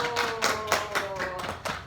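Classroom clapping for the first student group in a science lesson, a few loose, separate hand claps heard close and moderately loud over a short stretch.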